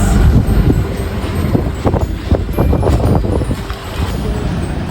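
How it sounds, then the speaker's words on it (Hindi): Strong gusty wind as a dust storm arrives over a market street, buffeting the microphone in loud rumbling bursts with clattering knocks and passing traffic mixed in. "अब आ रही है आंधी, हवा चल गई है तेज़"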